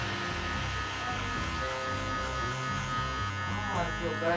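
Electric hair clippers with a one guard, lever open, buzz steadily while cutting a mid-bald fade, a close continuous hum that runs for the whole stretch with slight shifts as the blade moves through the hair.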